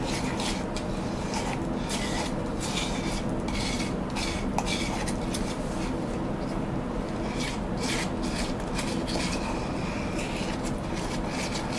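A tool works epoxy bedding compound in a container for a Remington 700 SPS Varmint .308 rifle, a steady run of scraping, clinking strokes going on without pause.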